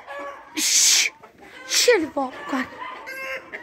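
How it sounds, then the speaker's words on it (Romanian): Farmyard roosters fight and cluck loudly nearby, with sharp squawks and agitated clucks in irregular bursts while a person speaks over them. "Se bat acolo cocoșii,"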